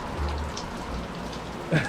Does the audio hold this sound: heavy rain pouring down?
yes